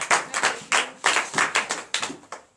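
A church congregation claps, a quick run of sharp, close hand claps in uneven bursts that fade toward the end, with no talking.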